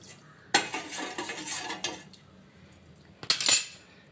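A spoon stirs sugar into boiling milk tea in a pot, making close metallic scraping and clinking in two bursts, a longer one early and a short one near the end, with quiet gaps and no talk.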